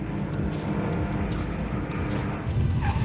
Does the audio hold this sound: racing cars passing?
yes